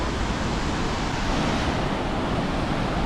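Water at the head of Krka waterfall in Croatia rushes in a steady, broadband roar, constant and fairly loud throughout, with a touch of wind.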